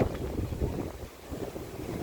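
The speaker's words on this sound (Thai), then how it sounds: "ลมแรงมาก" Strong gusting wind buffets the microphone in a rough, roaring rush at Jomtien Beach, Pattaya, with the wash of the sea faintly underneath.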